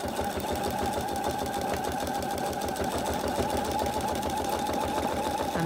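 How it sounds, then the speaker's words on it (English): A sewing machine does free-machine embroidery, stitching two lines around appliqué campervan headlights, running steadily throughout with a fast, even needle rhythm, close and alone. "for the headlights, I tend to do two lines of stitching"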